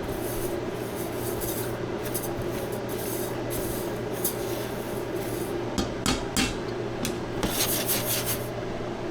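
Dry quinoa stirred around a pot on an electric stove, a steady close scraping and rustling that runs throughout with a few brighter scrapes near the end.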